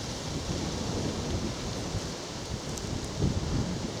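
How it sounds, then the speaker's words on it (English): A cold northerly wind blows steadily across an open greenway on a winter walk near Baldock, a continuous broad rush with gusty buffeting, nearby and fairly loud, and no one speaks. "This northerly wind now picking up and a bit of drizzle in the air."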